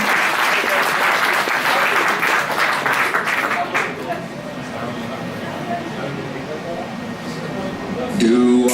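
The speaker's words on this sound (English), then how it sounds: "So please, a round of applause for Howdy the Wolf." Dense applause from a convention crowd at a dance competition, strong clapping that thins out midway, with voices over it and music starting at the end.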